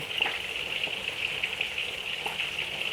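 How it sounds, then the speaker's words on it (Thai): Tilapia and catfish frying in hot oil, a steady close hiss and sizzle with tiny crackling pops, no talking. "กำลังทอดเลยค่ะเพื่อน"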